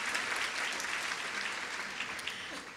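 Sustained applause from an audience at a women's fund charity luncheon, dense and even throughout, tapering slightly toward the end.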